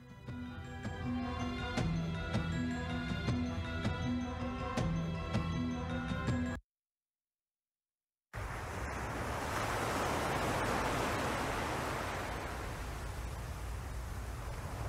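Sea waves wash the shore at Naic, Cavite, a steady broad rushing surf heard after a stretch of music and a brief silent gap, loud and continuous with no voices.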